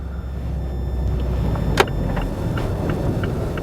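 A car drives around town in Tonopah, Nevada, its low, steady engine rumble continuous throughout, with one brief sharp click partway through and faint ticks after it.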